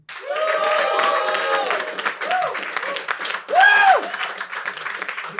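Audience at a New York roast battle comedy show applauding and cheering for a comedian, steady clapping with whoops and shouted voices over it, one loud cheer near the end.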